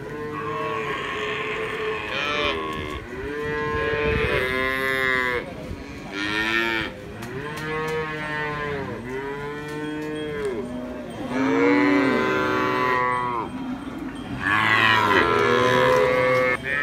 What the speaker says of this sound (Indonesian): Inilah kondisi pasar sapi Bondowoso